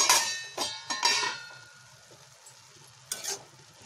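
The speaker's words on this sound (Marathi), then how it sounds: "आता छान प्रकारे गाजरचा हलवा मिक्स करून घ्यायचा आहे" Carrot halwa stirred in a pot after simmering with the lid on: several short bursts of scraping and soft sizzling from a spoon, close and fairly quiet, with pauses between strokes.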